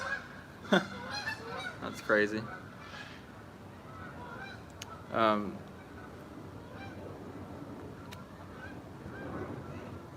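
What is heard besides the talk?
geese honking flying overhead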